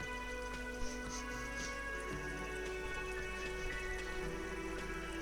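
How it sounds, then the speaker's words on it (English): Steady rain falls in the Disco Elysium game world, a soft continuous patter layered under a tonal music bed, with a faint voice briefly audible. "Oh, it's now raining."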